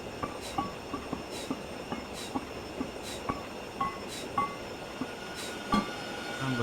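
A train slows to a stop in Train Simulator 2020: a steady rumble with regular clickety-clack wheel beats and brake squeal, loud and continuous, with no talking.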